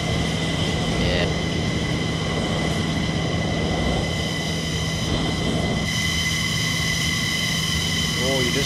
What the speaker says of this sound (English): Very loud, this plane, though.